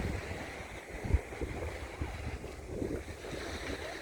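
Sea waves wash ashore at Tong Fuk Beach on Lantau Island, Hong Kong, a steady broad surf wash mixed with gusty wind rumble on the microphone, moderately loud and continuous with no talk.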